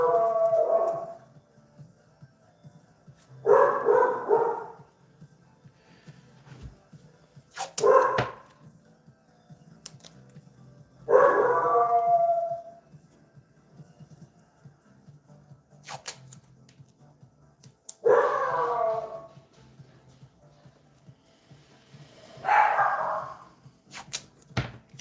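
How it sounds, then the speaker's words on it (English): Several dogs bark and howl in the background of a home, in about six separate bursts spaced a few seconds apart. The bursts are moderately loud and somewhat distant, with quiet gaps between them. "Sorry for the dogs in the background."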